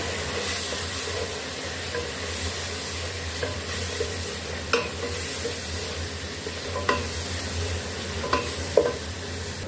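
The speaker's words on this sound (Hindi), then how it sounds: "इन सबको अच्छे से मिक्स कर लेंगे" Ground coriander, turmeric, salt and red chili powder sizzle in hot oil in a pan while a spoon stirs them for a tinda and potato curry. Frying hisses continuously, with sharp scrapes and clinks of the spoon against the pan.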